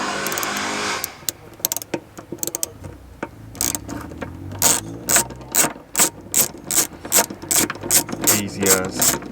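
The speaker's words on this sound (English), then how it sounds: "we've got these bolts, so that one there, that cheeky one there, get them two out with this Torx bit" A ratchet with a Torx bit backs bolts out of a Renault Megane RS interior, giving loud, close, rapid pawl clicks in steady bursts, preceded by a brief hiss.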